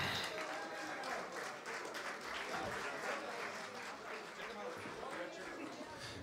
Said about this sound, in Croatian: Molim se, veliki aplauz za Igora Polaka.